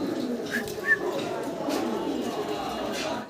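Pigeons coo softly at a seller's loft, a few short low calls near the start, with someone talking over them throughout.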